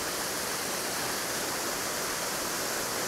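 A waterfall feeding a reservoir roars in a constant, dense rush of falling water, loud and close, steady throughout with no other sounds or voices.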